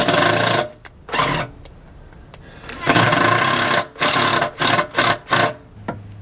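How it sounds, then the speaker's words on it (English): Power drill pre-drilling shallow holes for a fifth wheel hitch install, several loud whirring bursts of varying length separated by pauses and short clicks, close by. "we're going to pre-drill this"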